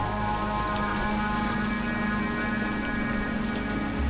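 Steady rain falls in a graveyard in the video game How We Know We're Alive, a dense continuous patter of drops on surfaces with a low ambient hum beneath and no voices.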